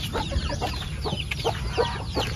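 Native chickens clucking in an upgraded pen, several birds making soft, irregular clucks close by over a steady background hum.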